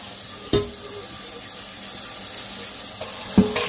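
Tap water running into a sink while makeup brushes are rinsed, a steady close hiss of flowing water with a few sharp clicks and bumps as the brushes and fittings are handled.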